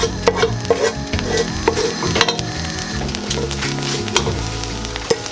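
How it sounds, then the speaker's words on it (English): Onions fry in a pan for vegetable pilau rice, giving a loud, close, continuous sizzle and crackle. Intermittent scraping stir strokes and light knocks come from the utensil against the pan. "What I'm going to do next is cook out my onions."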